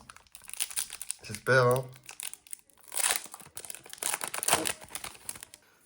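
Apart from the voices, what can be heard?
Pokémon Team Rocket booster packs being torn open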